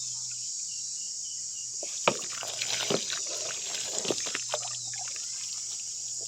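Snow dragon fish being scooped out of pond water, with irregular splashes, trickles and drips running for several seconds over a steady background hiss, fairly close.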